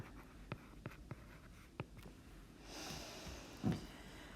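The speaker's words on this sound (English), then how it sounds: "So let's write down that it's a circle." A pen scratches out handwritten math notes on paper in a quiet room, with short separate ticks and strokes, then a longer scratchy stretch of writing, close and faint.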